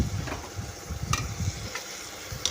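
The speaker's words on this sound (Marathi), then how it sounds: "तुम्ही आता छान परतून घ्यायचं तीन ते चार मिनिट छान शिजू द्यायचं" Mixed vegetables such as potato, tomato and capsicum are being sautéed in a pan for sambar, making a soft, steady sizzle with occasional stirring taps. The sound is quiet and close, with no speech.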